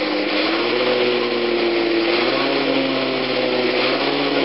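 Rowperfect indoor sculler rowing machine worked with short quarter-slide strokes, a steady loud whirring hum from the flywheel with little change in rhythm, no voices.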